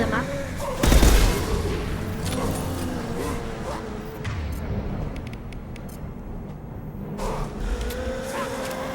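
Gunfire in Mass Effect 2, with a loud burst near the start followed by scattered shots and booms over a rumbling game background, and a voice talking across it.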